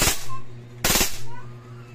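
A WE Glock 18 airsoft pistol fires on full auto in two short, rapid bursts, close and sharp with a brief pause between them.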